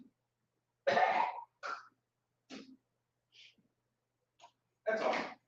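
A person clears their throat in a few sharp, separate bursts, the first and last the strongest, with smaller hacks between them and quiet gaps in a still room.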